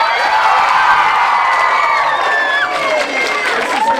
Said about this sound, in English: when I touch my forehead, I need you to cheer like there's no tomorrow.